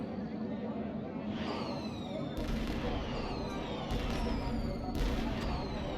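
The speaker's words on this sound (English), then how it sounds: "Nothing like some celebratory fireworks." Celebratory fireworks burst in Star Trek Online, a series of sharp cracks and whistling streaks over a steady rumbling bed, several distinct pops spaced a second or so apart, fairly loud and close.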